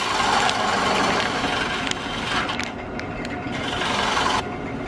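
Wood lathe turning a bowl from California fir, a continuous loud mechanical whir and hiss with scraping from the cutting tool that drops briefly and then resumes, with no voices.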